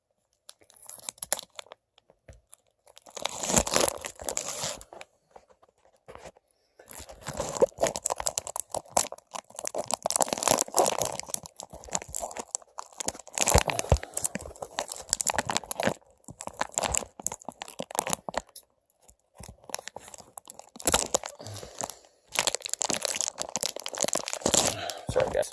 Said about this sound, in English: one cut in the corner, one cut across, one cut to get the flap